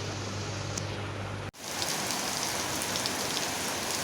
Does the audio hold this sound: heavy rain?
yes